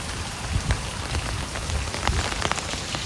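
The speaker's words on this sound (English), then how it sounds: "It might just be an ASMR rain walk" Steady rain falls on surfaces, a dense hiss with scattered louder drops pattering close by.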